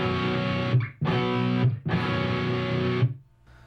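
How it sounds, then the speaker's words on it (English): Distorted electric guitar strums a progressive power chord of root, fifth and added ninth on top, three sustained loud strikes with short breaks between them and no talking. "You take the root, the fifth, and you add the ninth on top."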